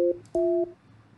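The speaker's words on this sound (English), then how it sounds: "please enter the following number on your phone's touchtone pad" Two touchtone keypad tones pressed on a phone during an automated Microsoft product activation call, each a steady dual-pitch beep, the second longer, clear and close with no talking.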